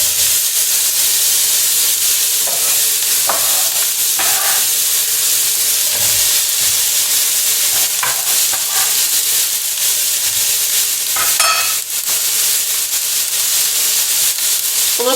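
Chopped onion sizzling in about a tablespoon of olive oil in a hot pan for risotto, giving a steady, close, broadband hiss that holds for the whole stretch with small crackling flickers.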